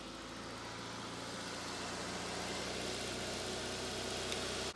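A Honda Civic EP3 engine runs at a steady high idle with a constant low drone and a slight vibration. It stays near and fairly loud for the whole stretch, and no one speaks.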